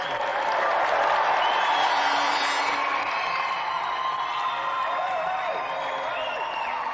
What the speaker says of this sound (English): please, a round of applause for our final competitor tonight, Rod Rambo-Lynette.